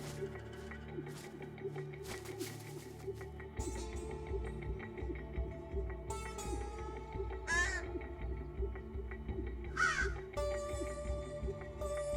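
Crows caw in a steady series of harsh, loud calls over a constant low background hum, with no speech.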